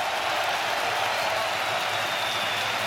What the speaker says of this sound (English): he milks the applause of the crowd